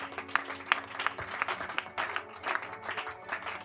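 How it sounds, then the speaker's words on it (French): Church congregation at a service applauding, a faint scattered patter of claps, somewhat distant and uneven, with a few louder claps standing out. "Est-ce que tu peux acclamer?"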